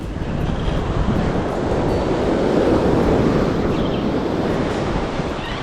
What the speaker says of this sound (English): Waves coming in hot.